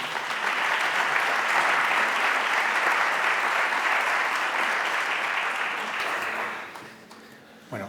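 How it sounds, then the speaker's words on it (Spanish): Audience applause for a speaker at a cybersecurity conference at Caja Rural Granada, a strong, even patter of many hands clapping for about six seconds before fading out quickly. "Así que, por supuesto, un fuerte aplauso para don Fernando Conde La Torre."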